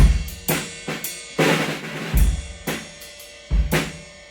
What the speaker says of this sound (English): we are gonna lower the dynamic by playing a multiple bounce